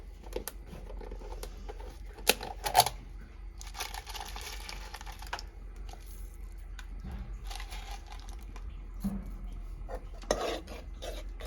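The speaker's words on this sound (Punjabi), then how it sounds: "ਮਸਾਲੇ ਨੂੰ ਆਪਾਂ ਚੰਗੀ ਤਰ੍ਹਾਂ ਭੁੰਨ ਲੈਨੇ ਆ" Ground masala with cumin roasting in a kadhai over a chulha for malai chilli paneer, heard as soft scraping and stirring of a spatula against the pan with occasional clinks, close and steady, no talk.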